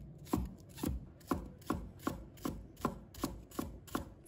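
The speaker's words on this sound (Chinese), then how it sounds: "葱白给它切末。" A knife chops scallion whites into fine mince on a cutting board, eight or nine steady, evenly spaced strikes, close and distinct, with no voices.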